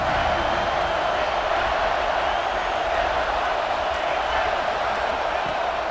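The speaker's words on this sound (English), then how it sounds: "Here comes this home crowd as the defense tries to get off the field on 3rd down." A home stadium crowd in EA Sports College Football 26 roars continuously on a third-down defensive stand, a dense wall of cheering and noise holding steady and loud throughout.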